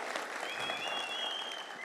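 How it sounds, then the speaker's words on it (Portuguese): A brief, even burst of audience clapping at a Hinode business convention, moderately distant and sustained without any speech over it. "So, yes, give yourself a hand."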